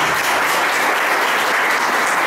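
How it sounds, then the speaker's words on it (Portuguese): A church audience gives a dense, steady round of applause for Jesus, loud and continuous throughout with no voices standing out. "Então dê uma salva de palmas para Jesus."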